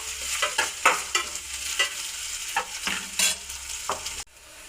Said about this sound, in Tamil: கொஞ்சம் நல்லா எண்ணெய் சூடானதுக்கப்புறம் ஆனியன் போட்டுக்கோங்க. இப்போ இதை நம்ம நல்லா விடாமல் கிட்டிக்கோங்க. இது நல்லா கொஞ்சம் வதங்கட்டும்.